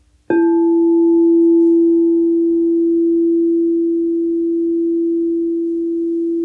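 An 11-inch crystal singing bowl tuned to E is struck once, giving a bright attack followed by a pure, steady, sustained tone that rings on loud and clear without fading, alone with no talk.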